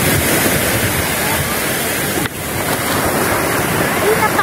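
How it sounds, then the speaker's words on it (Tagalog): Sea waves wash onto the beach at Macao in a constant, loud roar of surf, like a steady rush of water that runs unbroken through the whole stretch. "dito sa tabing dagat"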